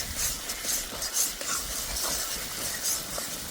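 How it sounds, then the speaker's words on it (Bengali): Tomato masala with a half spoon of Kashmiri red chili powder being stirred and sautéed in a pan for fish curry, a steady soft scraping and faint sizzle running continuously, fairly close, with no talk. "এবার দিয়ে দেবো কাশ্মীরি রেড চিলি পাউডার, অল্প করে দিচ্ছি। হাফ চামচ মতন। আবারও কিছুক্ষণ কষে নেব।"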